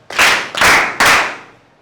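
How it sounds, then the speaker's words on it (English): Three loud, close bursts of group hand clapping from students in a classroom, each burst a crisp wash of many claps, the last trailing off into quiet. "clap for yourself"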